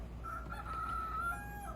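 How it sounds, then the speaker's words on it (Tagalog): A single video game rooster crow rings out, thin and drawn out, over a low steady hum, somewhat distant and faint. "Sakto may manok."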